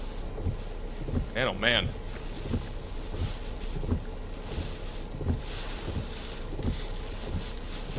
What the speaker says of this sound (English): This is at least 70-mile-per-hour wind gusts would be my guess here.